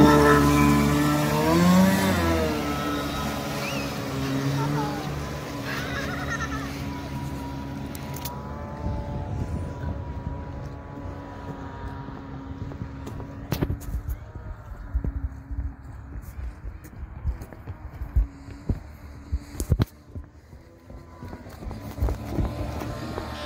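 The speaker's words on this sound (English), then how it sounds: "testing out the rebuild jet ski engine, Kawasaki" A rebuilt Kawasaki JS550 jet ski engine, a 550, runs on Seneca Lake, revving with rising tones at first, then settling into an uneven, bumpy drone with bursts and knocks, with occasional talk nearby.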